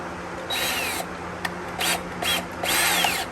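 Power screwdriver driving screws into picture frame decking boards, several short whirring bursts with rising and falling pitch, close and loud, separated by brief pauses.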